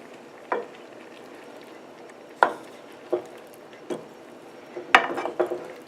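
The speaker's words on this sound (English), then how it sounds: "Now we'll just give it a stir." A spoon stirring aloo gobi, potatoes and cauliflower, in a pot: scattered scraping knocks and clatters against the pot, spaced a second or so apart, ending with a quick cluster of scrapes, close and fairly quiet.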